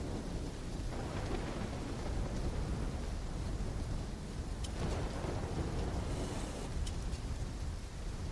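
Heavy rain pours down during a thunderstorm in Call of Duty: Black Ops III, a dense steady roar with rumbling thunder and a couple of sharp cracks near the middle and end.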